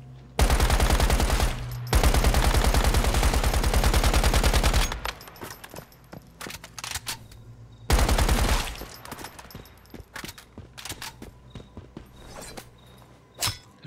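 Rapid automatic gunfire from the video game Once Human in two long, loud volleys, followed by scattered single shots and short bursts, with no talking.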